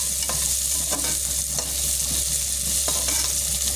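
Onion frying in a preheated pan on a stove, dense steady sizzling throughout with occasional brief knocks and scrapes of a stirring utensil, close and loud, no speech.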